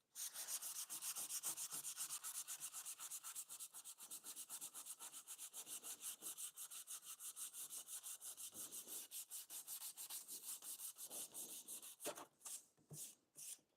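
Sandpaper rubs back and forth over the wood of an easel in quick, steady rhythmic strokes, close and alone, ending in a few slower separated passes.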